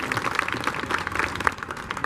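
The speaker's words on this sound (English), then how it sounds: "we have one big round of applause for Supervisor Cindy Chavez for her vision and leadership" A round of applause for Supervisor Cindy Chavez at an opening ceremony, a dense, steady wash of many hands clapping throughout, fairly close and continuous with no talk.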